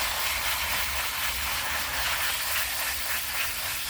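A cheap Dollar Tree pump sprayer misting garden plants, a steady broad hiss of spray running continuously and fairly close, with no talking.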